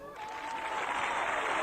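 A jubilant crowd applauds Hashim Thaçi in Rahovec, Kosovo, a dense, steady wash of clapping and cheering that builds quickly and holds loud throughout.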